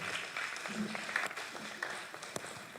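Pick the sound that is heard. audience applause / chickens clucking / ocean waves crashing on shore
audience applause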